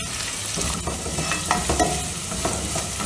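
Garlic cloves and green chillies fry in oil for a Kadappa gravy, a close, crackling sizzle broken by scraping stirring strokes, with no talk.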